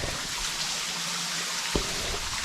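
Small rain-fed streams trickle along a hiking trail in the wet season, a steady soft running-water wash close by with a brief knock near the end.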